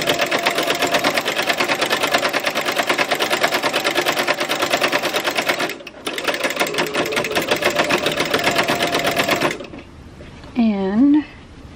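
A sewing machine runs steadily while stitching ruffles into fabric, a loud, dense mechanical whir that stops briefly in the middle, then cuts off near the end before a short voice.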